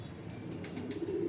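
Kept pigeons give soft, low cooing close by, a brief murmuring call that swells slightly toward the end, with faint wing or rustling noises in the background.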